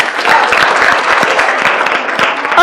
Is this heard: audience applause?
yes